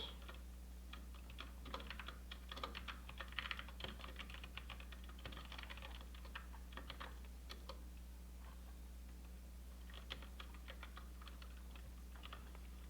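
Fingers typing on a computer keyboard produce a steady run of quick, light clicks, with a low electrical hum underneath and no one speaking.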